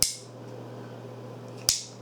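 An AR-15 selector switch on a semi-automatic-only trigger is flipped, giving two crisp, close, firm clicks about two seconds apart over a low steady hum.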